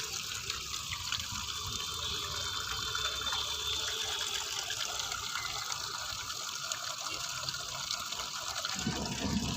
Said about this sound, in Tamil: அதில் ஒரு அரை பக்கெட் தண்ணியை பிடிச்சிக்கோங்க ஃபுல்லாக.